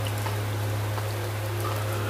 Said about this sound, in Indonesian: Malam semakin larut dan tidak ada tanda-tanda hujan akan berhenti.